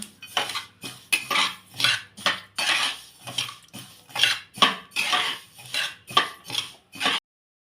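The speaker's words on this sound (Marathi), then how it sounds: "तर आता तीळ पण गरम करून घेऊया" Sesame seeds being heated and stirred in a pan alongside cashews and almonds, giving a steady run of scraping, rattling strokes and metallic clinks, fairly close and with no one talking.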